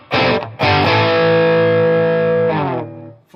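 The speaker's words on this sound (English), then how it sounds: "let's take a listen to some driven tones, and I'm going to switch to the crunch channel" Westone X390 Pantera electric guitar on an amp's crunch channel, distorted chords ringing out: a short stab, then a long sustained chord that decays and is cut off, loud and close with no talk.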